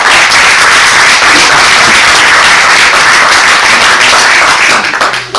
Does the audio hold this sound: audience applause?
yes